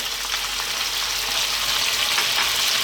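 Onion and garlic fry with chicken in a hot pan, a dense, even sizzle heard up close with no talking over it.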